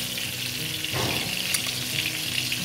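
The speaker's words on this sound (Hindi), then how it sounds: "मैंने इसको अब पैन में तलना शुरू किया है" Marinated pepper chicken fries in a pan with a loud, steady close-up sizzle and crackle, continuous throughout without any talking.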